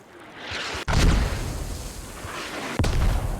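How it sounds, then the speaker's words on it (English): Mortar rounds landing in Squad on the Gorodok map, two heavy booming impacts a couple of seconds apart, each rolling into a long rumbling decay over a continuous battlefield din. "Mortars coming down onto Flying Llama's flank."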